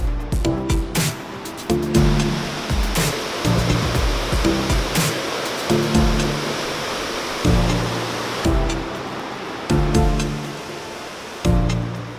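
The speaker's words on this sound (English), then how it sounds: "This waterfall, and it's meant to be in Japan's top 100 best waterfalls" A waterfall on Yakushima Island, Japan, roars as a constant broad wash of falling water, with intermittent low thumps and bumps from handling close to the microphone.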